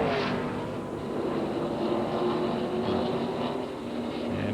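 NASCAR stock cars roar past at the 1996 GM Goodwrench Service Dealer 400, a dense, loud engine rumble that swells and blends as the pack goes by, with no talk over it.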